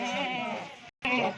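A pure Rajanpuri goat at a goat farm gives a long wavering bleat, then after a brief gap a second bleat begins, close and fairly loud.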